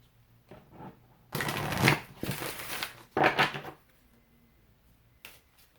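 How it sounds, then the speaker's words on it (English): A tarot card deck, the Angel Therapy set, being shuffled: two bursts of riffling and flicking cards at close range with no one speaking, followed by a final brief tap of the cards. "I'm going to shuffle and pull from the Angel Therapy deck."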